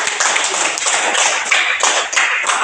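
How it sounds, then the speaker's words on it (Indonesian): Applause in a classroom for a student group after a presentation, a brisk patter of many hands clapping close by, loud and continuous for a couple of seconds. "Mari kita tepuk tangan untuk"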